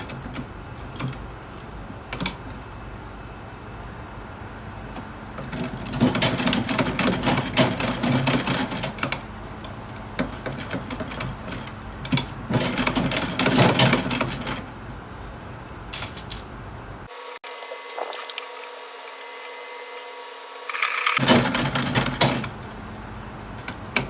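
A sewing machine stitches organza gown pieces in several bursts of fast, even mechanical clatter, with quieter pauses between runs.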